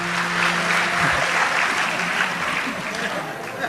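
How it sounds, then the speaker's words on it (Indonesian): Applause from an audience at an Islamic study gathering: steady, dense clapping that fills the whole stretch at an even level, with a faint voice mixed in. "Tepuk tangan untuk Gus Kausar nggak apa-apa."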